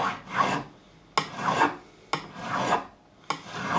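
A file rasps along the frets of a Garrison AG-700 CE guitar during fret levelling, in four close, rhythmic back-and-forth strokes, each a gritty scraping swell with brief pauses between, and no talking.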